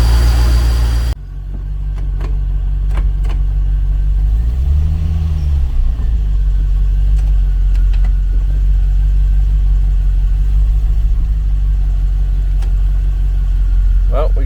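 A C4 Corvette engine fitted with a new clutch and TKX manual transmission idles steadily and close, with one brief rise in revs as the clutch is tested.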